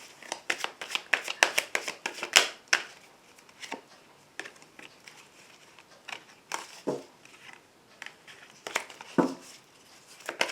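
Petit Lenormand cards (Milton Rêverie deck) being shuffled for a reading: close, dry flicks and riffles in uneven bursts, sharp papery slaps spaced through the stretch, no voices.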